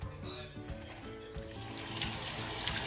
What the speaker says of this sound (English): So what we're going to do now is we're going to rinse it.